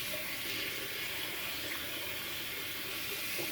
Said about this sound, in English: Can run the water because it's a bit cold.